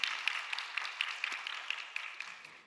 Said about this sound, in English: Let's give a round of applause as a sign of appreciation for all their services.